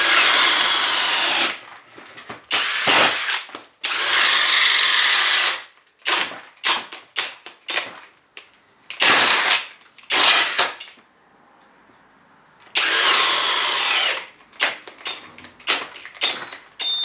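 Loud, close bursts from a FLEX 24V brushless cordless drill driving a bit, set against a Milwaukee M18 Fuel, with several long whirring runs broken up by short stop-start pulses and quiet gaps.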